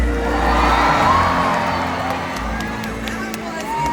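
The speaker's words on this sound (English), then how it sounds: "Will you give her a great big cheer when you see her?" Stadium audience at an orca show cheering and whooping, a broad swell of crowd noise that peaks early and then settles into steady cheering.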